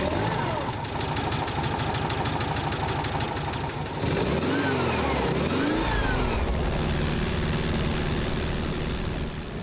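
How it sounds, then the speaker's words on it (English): The air-cooled boxer engine of a 1960s VW Beetle 1200 Convertible runs in a steady, loud drone, its pitch sweeping as it passes and changes speed, with a voice speaking over it at times. "boxer engine. It's highly dependable and runs smoothly and free of vibrations, but with a very assertive background noise"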